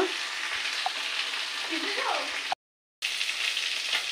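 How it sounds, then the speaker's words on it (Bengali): Fish fry in a pan with a steady, close hiss of sizzling oil and occasional soft pops. The sound cuts out briefly partway through, then resumes. "তাই মাছগুলো ভাজি করে নেব।"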